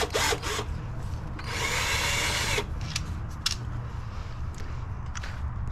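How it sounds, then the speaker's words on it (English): A power drill with an extension spins out bolts on the water pump of a 2017–2018 BMW B46/B48 engine, giving a few short whirring bursts and one longer run, nearby, amid clinks and handling noise. "Okay, so I need an extension so I can fit my drill."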